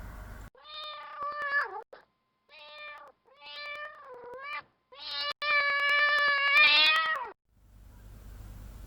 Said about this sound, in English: This is cat, and I know you all know this animal very well.